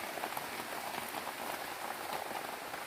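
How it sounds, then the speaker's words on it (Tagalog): Rain pours steadily onto surfaces outdoors on a mountainside in Sorsogon, making a dense, even hiss of drops that continues without a break. "O, ngayon lang umulan dito kaya samantalahin natin yung ulan."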